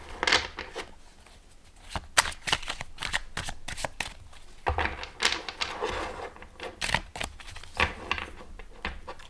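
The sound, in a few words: riffle shuffling a small tarot card deck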